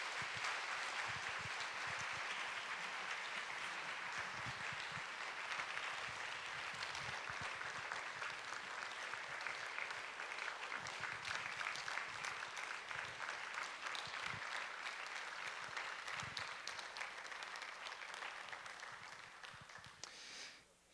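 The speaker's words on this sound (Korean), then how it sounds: "우리 다시 한번 들어가실 때 뜨겁게 박수로 격려하겠습니다" A church congregation applauds warmly and continuously for about twenty seconds, a dense, loud wash of clapping that fades out at the end.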